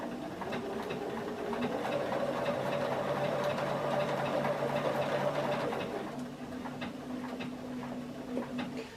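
Sewing machine running a triple stitch with an open toe presser foot, a rapid even ticking hum that holds steady for several seconds, then eases slightly and continues more softly, close and alone.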